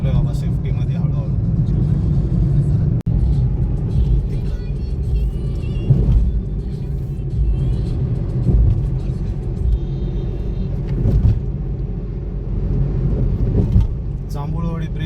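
Cars race past on a bridge road near Jambhulwadi during a drive toward Mandhardevi, a continuous low rumble and whir of traffic with occasional louder passes, while someone talks over it.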